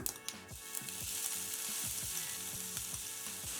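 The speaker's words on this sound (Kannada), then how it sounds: "ಈರುಳ್ಳಿ ಸ್ವಲ್ಪ ಫ್ರೈ ಮಾಡ್ಕೊಳ್ಳೋಣ" Finely chopped medium onions frying in hot oil with mustard seeds in a pan, a dense close sizzle with sharp crackles and a regular series of stirring scrapes through the short stretch, no voices.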